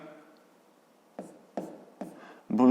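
A pen writes on paper during a fifth-grade math exercise on inequalities, with a handful of short, quiet scratching strokes close by and a voice speaking faintly around them.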